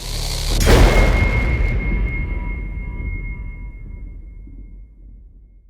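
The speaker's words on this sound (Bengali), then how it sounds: "একটি ভয়ঙ্কর বৈদ্যুতিক বিস্ফোরণে" A deep boom of an electrical explosion bursts out with a sharp crackle, then a thin electric tone hums and slowly fades under a low rumble.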